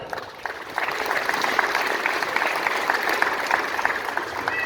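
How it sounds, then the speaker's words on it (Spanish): An audience at an indigenous community consultation gathering in Morelos breaks into a warm, sustained round of applause, building quickly after a brief pause and continuing steadily at moderate volume. "Recibimos con un fuerte y cálido aplauso."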